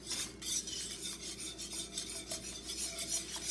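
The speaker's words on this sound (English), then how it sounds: "And you're whisking very quickly because you don't want scrambled egg inside your roux" A whisk beats egg yolk quickly into a roux for a cheese soufflé, making a soft, continuous scraping and rasping against the bowl with a brisk, even rhythm at close range, no voices.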